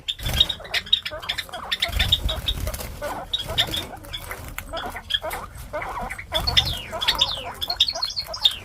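Budgerigar chicks about one to one and a half months old chirp and squeak in a busy, overlapping chorus close by, with rustling and other animal noise mixed in.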